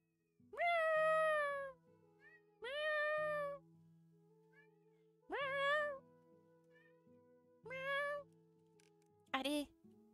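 A person's voice imitates a cat, giving five separate drawn-out meows at a steady pace, the last one short and sharp, over quiet background music from the game Potion Permit.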